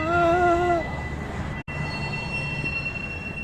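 A passing train in upstate New York gives a steady rumble with high squealing tones early on, heard alone without voices.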